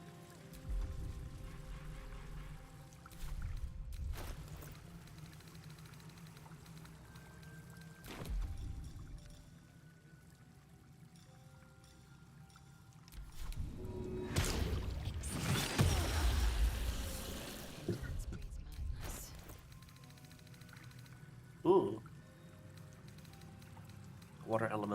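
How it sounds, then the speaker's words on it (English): A water elemental's shower pours in Baldur's Gate 3, swelling into a rushing splash of water midway amid faint game mechanisms and ambience, with a voice briefly exclaiming. "Water elemental shower."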